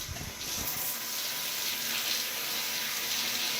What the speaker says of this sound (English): we want to run the water through our hair until we get a light pink color